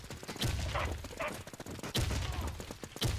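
Rapid gunfire in a shooter video game, with bursts of sharp shots in quick succession and a faint voice in the background.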